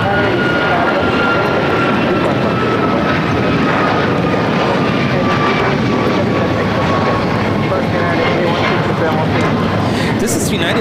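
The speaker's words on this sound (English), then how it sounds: "This is United Airlines 8167 taking off to Washington Dulles on a MAX 9" A United Airlines Boeing 737 MAX 9 takes off at LAX bound for Washington Dulles, its engines a loud, steady roar throughout, with people talking over it.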